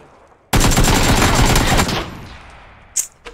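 Automatic gunfire in the PC battle-royale game PUBG: one loud, dense burst of rapid shots lasting over a second. It fades into a decaying tail, followed by a couple of faint clicks.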